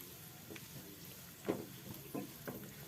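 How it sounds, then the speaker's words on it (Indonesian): Chili peppers are sautéed in a pan, giving a faint, steady sizzle broken by a few soft stirring scrapes and taps, close but quiet with no talking. "Tumis sampai cabenya layu."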